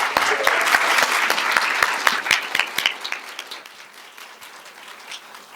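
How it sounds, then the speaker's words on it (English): A symposium audience applauds the panelists at a transportation program event, with loud, sharp individual claps up front that thin out and fade into a quieter room. "please join me in giving a round of applause to our panelists"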